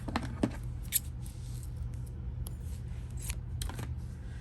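Scissors snipping beading thread on a beaded bangle bracelet, a few faint, sharp clicks spaced apart over a quiet room hum.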